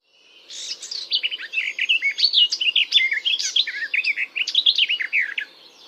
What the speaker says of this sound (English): Garden warbler.